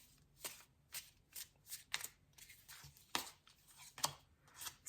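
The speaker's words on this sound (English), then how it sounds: "I'm going to pull some chakra cards because that's what I do." Chakra cards being shuffled by hand, a series of quiet, crisp riffling bursts repeating in an uneven rhythm, close and soft with no talking.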